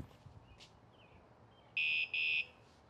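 A Jetson Bolt Pro e-bike security alarm triggers when the bike is shaken, giving two loud, sharp electronic beeps in quick succession after a quiet stretch, close to the microphone.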